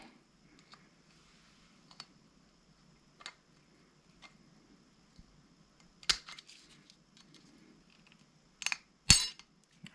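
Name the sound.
removing intake clamp from Husqvarna 346 XP chainsaw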